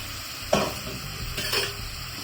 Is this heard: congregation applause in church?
no